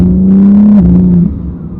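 A BMW M4 G82 xDrive engine holds a steady, loud rev in manual mode, then the pitch drops sharply at a paddle shift and the note continues briefly before easing off into a lower rumble.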